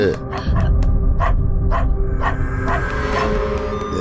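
A dog being bathed barks in a quick series of sharp yips and woofs, fairly close, over a rumbling, noisy background.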